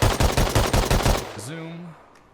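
An SKS rifle in the game Rust fires a quick burst of about six or seven loud, evenly spaced shots, followed by a short metallic reload-like rattle and a voice speaking over the tail.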